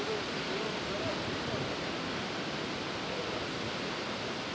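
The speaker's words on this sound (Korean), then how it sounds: "왼쪽의 쇼묘 폭포는 350m 낙차로 떨어지는 물소리가 연불 외는 소리로 들린다 해서 이름 붙여졌다." Dense, continuous roar of the Shomyo Falls in Toyama, Japan, dropping 350 meters, steady and unbroken throughout, heard from a moderate distance.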